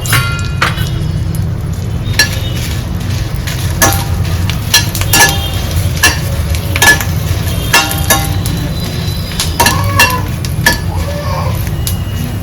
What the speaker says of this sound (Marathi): थोडस तेल टाकणार लगेच भाजते कारण पॅन तापलेला आहे चांगला